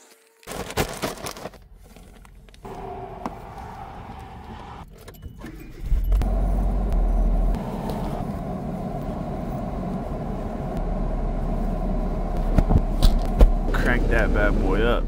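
Keys jangle, then a car engine cranks and settles into a steady low idle on a cold, foggy morning during an Alaskan road trip, the rumble continuing close and constant.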